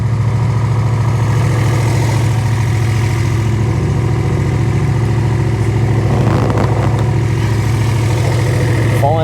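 A Honda VL250 bobber motorcycle, warmed up to operating temperature, idles steadily with a low, even engine rumble throughout, and a brief clatter of handling noise comes partway through.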